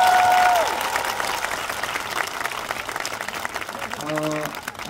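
Audience applause at a live concert venue in Daejeon, a crowd clapping steadily after a singer's performance, fairly loud at first and then continuing evenly before a brief musical tone enters near the end.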